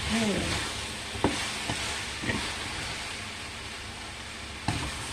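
Food is stirred in a hot pan after black pepper goes in, a low continuous sizzle with a few distinct utensil clanks against the pan, close and fairly quiet; a brief faint voice sound opens the stretch.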